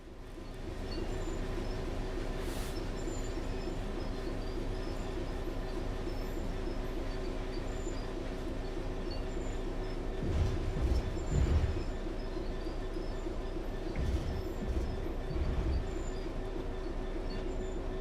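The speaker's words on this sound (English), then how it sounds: "Nice clumping sounds from the points there." Train from a railway simulator rolling steadily with a continuous low rumble, then wheels clumping over points in a few heavy thuds midway through, no talking.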